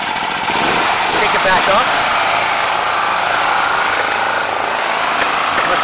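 A Jiangdong JD4000 4000W generator engine runs at idle, a steady close mechanical rattle filling the clip while someone speaks briefly over it.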